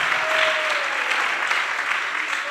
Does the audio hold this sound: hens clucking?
no